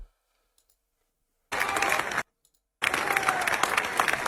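Golf clapping, a subdued polite applause, comes in two bursts: one short and one longer, separated by near silence. The clapping is dense and fairly loud while it lasts, with no talking over it.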